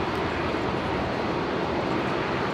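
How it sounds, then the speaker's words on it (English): An Alliance Fokker 100 jet taxiing at Brisbane airport, with a steady broadband engine roar and rumble that stays constant and fairly close from start to end. "Another one of the Alliance Fokker 100s."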